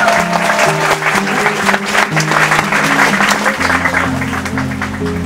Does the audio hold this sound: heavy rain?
no